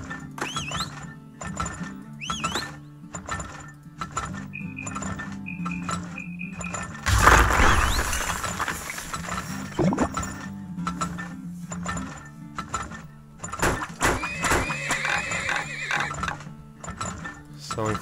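Horses in a video game whinny and neigh with a clink of metal and clip-clop of hooves, over steady game music and a loud burst of noise midway, while someone talks throughout.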